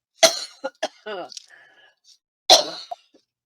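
A couple of short, harsh coughs from a person with sinus trouble ring out close by, separated by brief spoken sounds in a quiet room.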